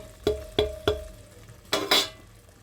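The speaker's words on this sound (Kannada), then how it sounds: "ನಾನು ಕಲಿಸ್ಬಿಟ್ಟು ಮುಚ್ಚಿಟ್ಬಿಡ್ತೀನಿ" A spoon stirs grated coconut and coriander leaves in a pan, giving three quick scraping strokes followed by a longer, louder pair. The sound is close and there is no talking.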